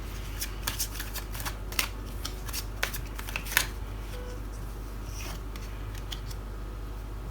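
Tarot cards are shuffled close up, giving a quick run of crisp riffling flicks and soft slaps under a low steady hum, with no talking.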